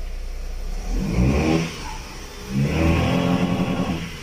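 A Dodge Avenger with a 2.4 engine and a camshaft sensor fault (code P000B) runs roughly, its engine noise swelling twice in uneven surges and sagging between them, heard close with no talk.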